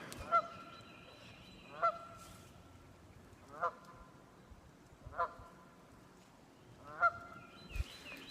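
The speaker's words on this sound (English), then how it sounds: "Got some geese." Geese honk in separate calls spaced about a second or two apart, moderately distant over quiet outdoor background.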